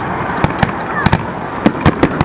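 Holiday fireworks going off at a Fourth of July display, a string of sharp bangs arriving at uneven intervals, several clustered close together, over a steady outdoor crowd murmur.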